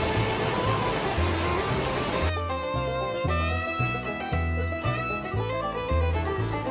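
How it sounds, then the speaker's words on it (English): Rain falls steadily overnight at a trail shelter, a dense, even patter that is heard alone for about two seconds. Rhythmic music then comes in and largely covers it. "It started raining that afternoon and rained throughout the night."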